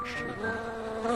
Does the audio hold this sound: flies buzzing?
yes